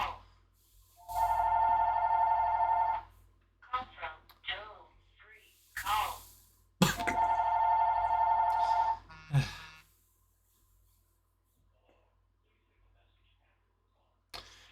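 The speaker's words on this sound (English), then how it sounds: "Sorry, the phone's ringing in the background." A telephone rings in the background indoors: two long, steady ringing bursts a few seconds apart, with a person talking in between and afterwards.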